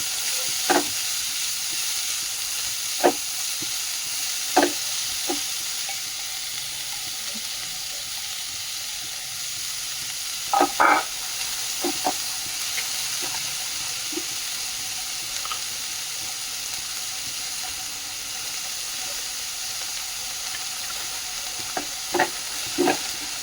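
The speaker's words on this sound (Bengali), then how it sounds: "গাজর কুচি ক্যাপসিকাম কুচি বাঁধাকপি কুচি সবগুলো দিয়ে এখন হালকা চাড়া করে নেবো" Chopped carrot, capsicum and cabbage stir-fried in a pan, a steady soft sizzle running throughout with scattered sharp clicks of a spatula scraping and tapping the pan, close and moderately quiet, no talking.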